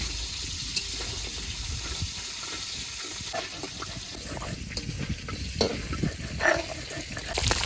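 A fish head sizzles and crackles steadily as it fries in hot oil, with occasional stirring clatter and a louder spurt of frying toward the end.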